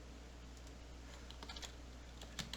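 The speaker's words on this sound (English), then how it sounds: "let's type this out" Typing on a computer keyboard, a short sparse run of soft key taps over a low steady hum, faint and close with no voice.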